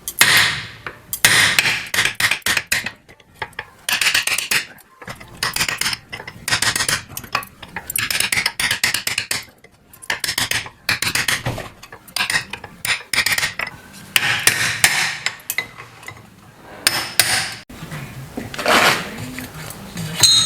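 Old suspension bushings are hammered out of a 1939 Hudson with repeated sharp metal blows in irregular bursts, close and loud, with brief pauses and clinking between strikes.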